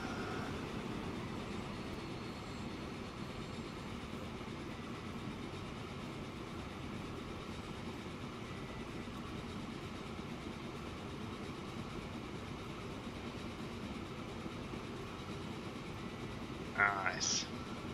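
Trains rumble along the rails in the Transport Fever video game, a low steady rolling drone with faint clatter, distant and quiet, ending with a brief higher squeal.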